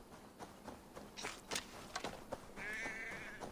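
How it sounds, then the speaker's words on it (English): In the Assassin's Creed Valhalla video game a distressed sheep bleats near the end, a wavering nasal cry over a background of scattered thumps, rustles and buzzing ambience. "Sounds like a sheep, and not a happy one."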